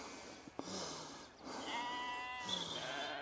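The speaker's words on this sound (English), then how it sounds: "Got lots of sheeps and lambs here" Sheep and lambs with blue markings graze in a field on a walk between Blue Anchor and Minehead, bleating loudly nearby in several overlapping calls over soft outdoor ambience.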